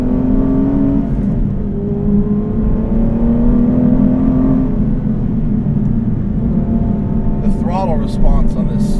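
The V12 engine of a manual Aston Martin V12 Vantage S drones loudly and close as it accelerates, its pitch rising steadily through a gear, then dipping and climbing again, with talk over it.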